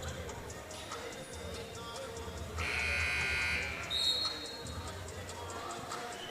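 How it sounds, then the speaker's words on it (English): A scoreboard buzzer sounds to resume play at a boys high school basketball game between Hamilton and Highland in a gym, a loud sustained electronic tone lasting about a second amid crowd noise and faint speech in the background. "As the buzzer sounds to resume play"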